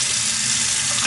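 Hot water runs steadily from a faucet into a stainless steel sink with strong pressure, a loud, close, unbroken hiss and splash with no voices.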